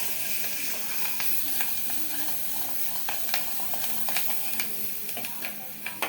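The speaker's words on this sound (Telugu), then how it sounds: "పసుపు వేసి కలుపుకోవాలి." Turmeric is stirred into a frying mixture in a pan: a steady hiss and sizzle with scattered light scraping clicks from the spoon, close and continuous, with no talking.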